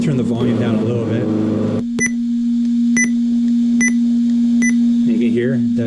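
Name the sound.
confirmation beep of GT Power RC engine sound system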